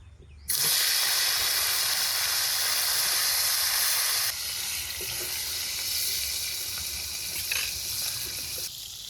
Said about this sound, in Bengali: মাথা 3টা আগে ভাজবো, লেজা 3টা পরে ভাজি। তেলও টনটনা গরম হয়ে গেছে।